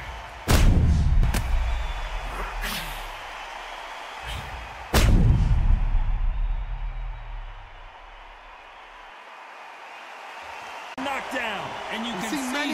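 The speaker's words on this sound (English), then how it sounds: "A big headshot and he goes down." A boxing headshot knockdown replayed in the Undisputed video game, heard as two heavy booming punch impacts a few seconds apart, each trailing into a long slowed-down rumble, with crowd noise and commentary voices around them.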